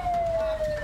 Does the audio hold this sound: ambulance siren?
yes